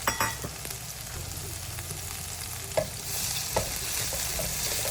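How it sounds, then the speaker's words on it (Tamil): Chopped tomato sautéing in oil over a low flame for a coconut chutney, a steady soft sizzle broken by a few sharp clicks of stirring, close and alone with no voices. "லோ ஃப்ளேமில் தக்காளி நல்லா குழஞ்சி வேகணும். அது வரைக்கும் வதக்கணும்."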